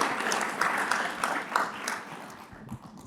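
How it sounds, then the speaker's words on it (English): Audience applause after a panel discussion on entrepreneurship, a moderate crowd clapping steadily at mid distance for about three seconds and tapering off toward the end. "Let's give a round of applause."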